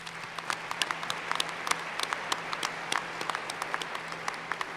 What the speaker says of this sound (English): give them a round of applause for their unwavering support to us